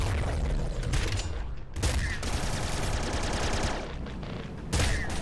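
Heavy plasma weapon fire in Nuclear Throne with the Ultra Mod, a dense, loud barrage of overlapping blasts and booms running almost continuously, with brief gaps and sharp zaps, no talking.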